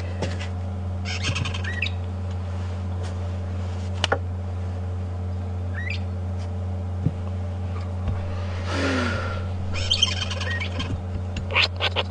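A fork-tailed drongo calls on a safari drive with brief scattered chirps and whistles at moderate distance, over a steady low vehicle engine hum.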